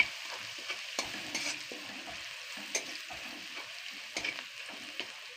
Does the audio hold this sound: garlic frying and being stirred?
yes